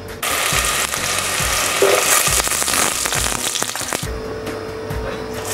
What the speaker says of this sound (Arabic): بعدين بصل، على البصل الثوم ويا ماجي